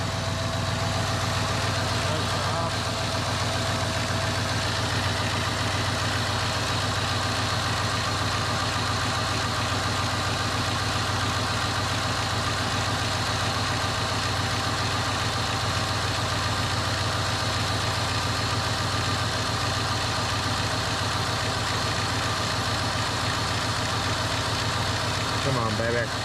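A 2001 Cadillac engine idling steadily after a starter replacement, a constant low hum with a faint whine that runs unchanged from start to finish, close and fairly loud.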